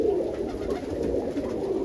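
Roller pigeon cocks cooing in a loft in a steady, overlapping low murmur, close and continuous, with no talking.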